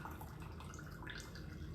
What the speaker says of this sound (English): if you want to drain off your chicken, right, you can hold this like this and just tip it over